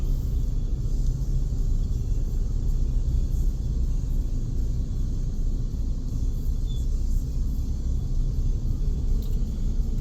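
Dense car traffic in a rush-hour jam before rain, a constant low rumble of many engines at moderate distance, steady throughout with no voices or distinct horns.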